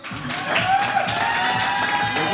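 Audience applause for a recited couplet at a poetry-style segment of a PSL9 cricket show, a steady dense wash of clapping with a few voices mixed in, sustained and fairly loud throughout.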